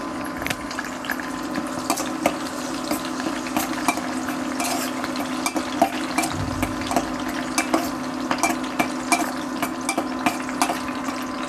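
Whole cloves and curry leaves fry in hot groundnut oil with a steady, close crackle and scattered pops, continuing evenly throughout with no talk.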